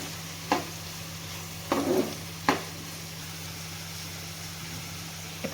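A few sparse scrapes of a spoon stirring bottle gourd curry in a pan, three distinct strokes over a faint steady hum, with no voices.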